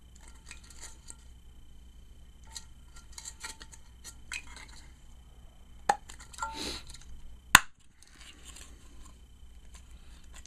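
Two halves of aluminium cans shoved together by hand, giving scattered close metallic clinks, scrapes and crinkles with a couple of sharp louder taps, alone in a quiet room.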